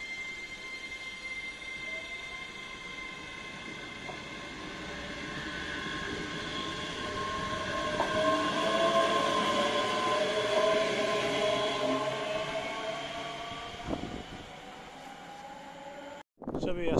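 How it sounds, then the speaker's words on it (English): A six-carriage passenger train pulls in on the line toward Alloa, its rumble building to a loud, close pass with squealing wheel tones, then easing off before a sudden cut. "So we have 6 carriages coming back for Alloa."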